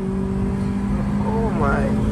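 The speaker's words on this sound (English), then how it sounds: "let's see the power of this Honda Civic right here" A heavily modified Honda Civic in Dubai revs its engine, a steady loud drone that rises sharply in pitch near the end as the throttle opens.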